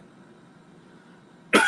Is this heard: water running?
no